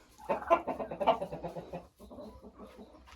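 A laying hen clucks repeatedly in short, close bursts, pauses briefly, then resumes softer clucking.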